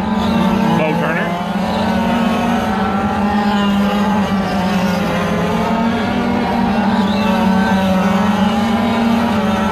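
Sportsman race cars roar around an oval track in a steady, continuous engine drone with one dominant pitch, while an announcer talks over the racing throughout.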